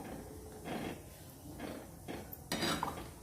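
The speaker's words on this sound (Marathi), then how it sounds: "हे सर्व मिक्स करून घ्यायचे आपल्याला" A spoon clinks and scrapes against a pot while a drumstick and dal curry is mixed: a few quiet, separate bursts of stirring over a low, steady background.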